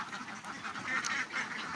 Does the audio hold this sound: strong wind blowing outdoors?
no